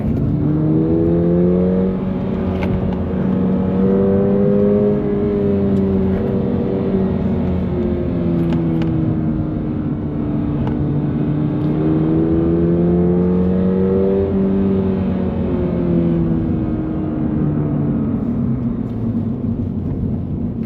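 A 2023 Subaru BRZ engine hums under load through a long drive, its pitch swelling and dipping smoothly with blips and gear changes, heard steadily from inside the car with no talking.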